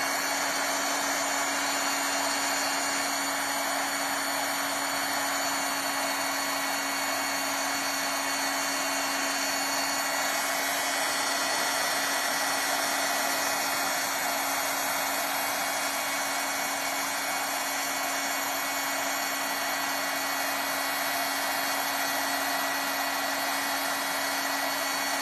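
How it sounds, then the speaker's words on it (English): Heat embossing tool blowing hot air over powder on a handmade New Year card, a continuous even whir with a steady hum underneath, lasting unbroken from start to finish. "Thanks for your patience while I heat emboss."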